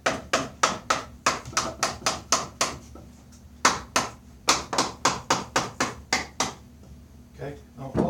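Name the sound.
knocking apart wooden furniture unit pieces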